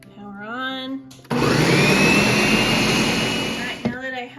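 A blender pureeing roasted tomato soup with chicken stock, switching on abruptly into a loud, steady high-pitched whirring roar that runs for over two seconds before cutting off, with a person talking briefly before and after.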